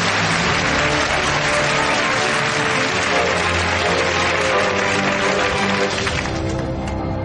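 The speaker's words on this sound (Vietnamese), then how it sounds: "Chúng ta hãy cùng dành những tràng pháo tay để bắt đầu vòng 2 của cuộc thi chung kết" A studio audience applauds at the final of the Vietnamese TV quiz show Tìm Người Thông Minh in 2008. Loud, dense clapping continues steadily throughout, easing slightly at the very end.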